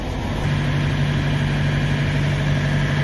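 Diesel truck engine idles together with a running reefer unit on a cold morning, a steady loud droning hum with no change in pitch.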